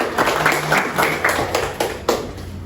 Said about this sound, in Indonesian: Oke, tepuk tangan untuk kelas.